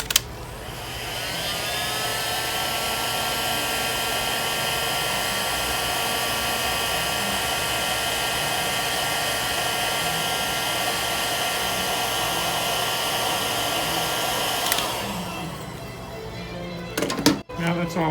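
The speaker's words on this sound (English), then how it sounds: "We'll take our heat gun." A heat gun blows steadily for about fifteen seconds, shrinking heat shrink tubing over soldered turn-signal wiring on a Honda CBR motorcycle, then cuts off, followed by a few handling clicks near the end.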